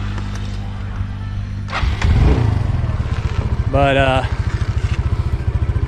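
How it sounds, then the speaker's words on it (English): A motorcycle engine cranks and catches, then settles into a steady, pulsing idle that runs close by to the end, with a brief spoken word near the start. "let me get my motorcycle started."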